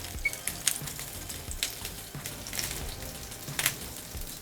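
Methi-onion dhapate flatbread roasts on a hot pan over a high gas flame, giving a soft, steady sizzle with a few sharp crackles. The sound is fairly faint and there is no talking.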